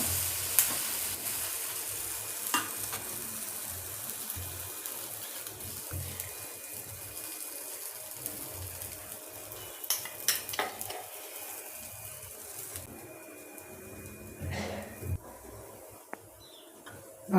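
A chickpea dosa fries on a hot pan after being flipped, giving a steady soft sizzle and hiss with occasional light clinks and scrapes, close up and without talk.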